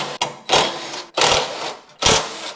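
A power tool loosens 10mm bolts on a snowblower in three short, loud whirring bursts, each lasting about half a second with brief pauses between.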